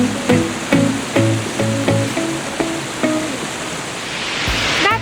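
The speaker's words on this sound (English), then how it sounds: "Several streams of water cascading over so many rocks, and we have the entire waterfall to ourselves." Several streams of water cascade over rocks at a waterfall in North Bali, a loud steady rushing roar with rhythmic splashing pulses, close and unbroken.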